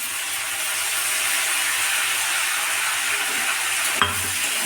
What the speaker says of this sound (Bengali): এবার এটা একটু কষিয়ে নেব।